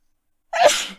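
A single sharp sneeze, close and loud, bursting out after a moment of silence and trailing off quickly.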